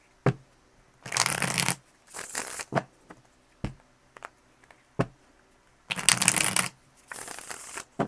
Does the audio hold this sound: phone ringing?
no